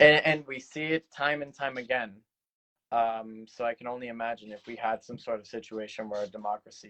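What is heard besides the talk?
No distinct noise like a dog, phone or traffic.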